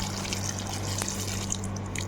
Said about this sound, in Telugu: ఇప్పుడు చిక్కుడుకాయలు మునిగేంత వరకు వాటర్ అయితే పోసుకోవాలండి